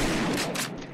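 A gunshot in Garry's Mod Trouble in Terrorist Town, a crackling burst of game gunfire that fills the moment and ends in a sharp bright report.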